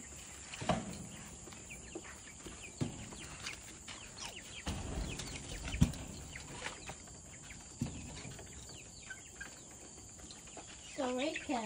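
Organic chickens in a simple coop with a fenced run give faint, scattered clucks and calls, mostly under people talking, with a brief run of repeated calls near the end.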